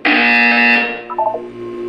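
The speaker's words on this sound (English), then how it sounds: "You will hear a buzzer." A loud electronic buzzer from the video game Portal 2 sounds once for under a second, a harsh steady tone that cuts off into a faint trailing electronic blip.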